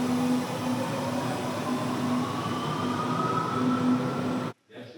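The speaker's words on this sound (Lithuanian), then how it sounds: "Ate metro." A Berlin metro train arrives with a steady, loud rumble of wheels and a rising electric motor whine up close. Nobody speaks, and the sound cuts off abruptly near the end.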